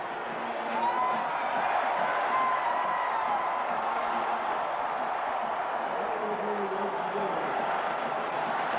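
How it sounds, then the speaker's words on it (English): A 1990 Alabama football stadium crowd roars as the clock runs out, a steady, distant wash of cheering that fills the whole stretch while a broadcaster's voice talks over it. "the crowd celebrates"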